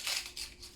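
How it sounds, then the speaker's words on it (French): A garlic clove or onion being peeled by hand for spinach with mussels and shrimp, giving three short, dry, crackly rustles of papery skin, close and quiet, with no talk. "J'épluche un oignon."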